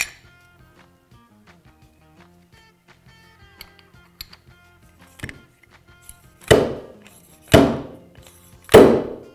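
Fork seal driver tapping an oil seal down into a WP AER motorcycle fork leg: three loud, sharp metallic strikes near the end, evenly spaced about a second apart, after quieter small clinks and handling noises.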